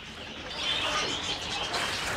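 Pigeons heard nearby over a dense, noisy wash, with soft cooing and chirping blending together; no clear talking.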